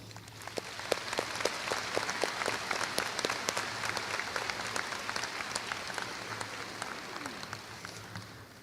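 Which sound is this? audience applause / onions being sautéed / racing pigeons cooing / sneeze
audience applause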